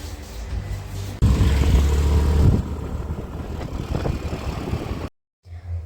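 A scooter engine runs close by, surging loudly for a second or so before settling to a steadier, rougher hum, then cutting out abruptly near the end with faint noise returning after.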